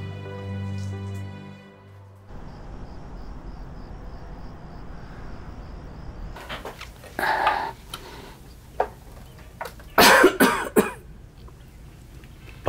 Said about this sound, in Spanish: Papá, debes checar esa tos